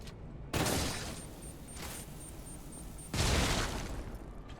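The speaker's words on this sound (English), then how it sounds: "I think I'm just gonna shoot him." Two loud gunshots fired at an enemy in Lies of P, each a sharp blast with a rumbling tail and a couple of seconds between them, plus a fainter thump in between.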